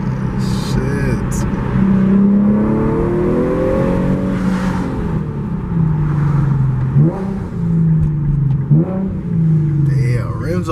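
A modded 2015 Infiniti Q50 with a 3.7L engine and muffler delete revs loudly up and down in several rising and falling pulls, close by, with voices talking over parts of it.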